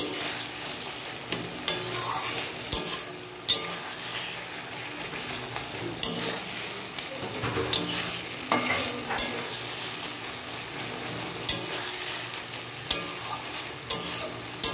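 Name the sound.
stirring taro greens with hilsa head in a pan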